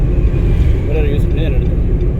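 A car's engine rumbles steadily throughout a driving lesson as the learner pulls over to the roadside, with a low, continuous drone and voices talking over it.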